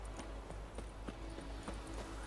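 Horse hooves galloping in The Witcher 3, a fairly faint, steady run of rhythmic thuds and clip-clops over a low background rumble, with no speech.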